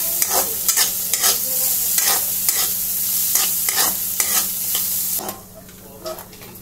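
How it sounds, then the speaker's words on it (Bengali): Grated coconut frying and being stirred in a little hot oil in a pan, with loud, steady sizzling broken by repeated scraping strokes of a spatula, then quieter sizzle near the end. "অল্প তেল গরম করেছি, এরপরে নারকেল কোচানোগুলো দিয়ে দেবো এর মধ্যে।"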